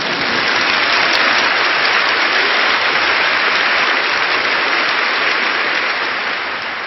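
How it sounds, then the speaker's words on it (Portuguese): A church congregation applauds during a bilingual sermon, producing a dense, even wash of clapping that holds steady throughout and fades slightly at the end. "Aplauso ao Senhor."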